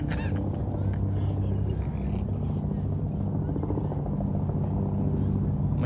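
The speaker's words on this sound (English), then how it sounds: "Listen to that helicopter. That thing can chop me right up." A helicopter drones steadily overhead, a loud continuous low rotor rumble that never fades across the whole stretch, with people talking over it throughout.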